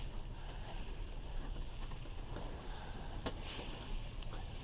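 Steady northeast wind rushes over a sailboat under way on Lake Erie near Dunkirk, New York, a continuous broadband roar with faint water wash and a couple of brief knocks.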